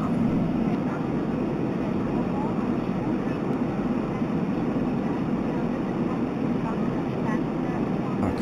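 Steady broadband rumble of an airliner in flight in the X-Plane flight simulator, heard from the cockpit on descent toward Daytona, with a constant engine and wind drone lasting throughout.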